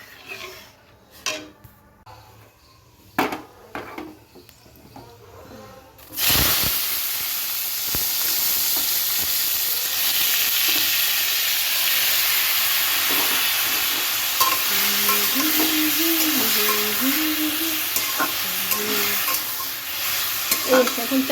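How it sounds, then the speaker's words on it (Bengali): Chutney sizzling and frying in a pan on a home stove, a steady loud hiss with stirring scrapes, after a quieter stretch of scattered kitchen clatter and knocks. "এখন চাটনিটা বসালাম"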